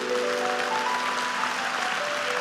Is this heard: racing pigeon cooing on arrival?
no